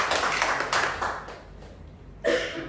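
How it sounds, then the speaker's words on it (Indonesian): Church congregation claps hands at an online worship service, a burst of clapping that thins and fades, then a fresh loud flurry of claps starts up. "Bisa kita beri tepuk tangan."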